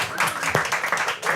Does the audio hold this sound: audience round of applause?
yes